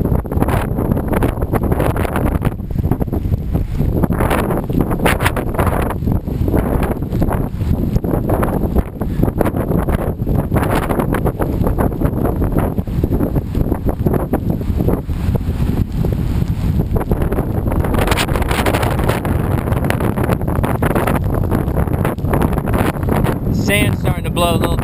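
Hurricane Irene wind roars across the beach at Ocean City, a constant loud buffeting on the microphone with surf churning beneath, while someone talks over it throughout.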